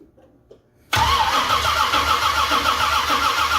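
A 1978 Ford Courier engine cranks and catches abruptly after a near-silent moment, then settles into a loud, steady idle close by with no talking.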